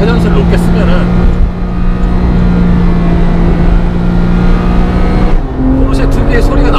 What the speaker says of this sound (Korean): 포르쉐 특유의 소리가 나긴 하는데